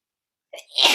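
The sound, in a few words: sneeze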